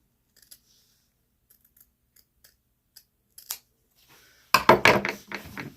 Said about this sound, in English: Now I use my fabric scissors.